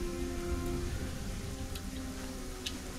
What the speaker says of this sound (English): It's still raining. Does it like always rain here?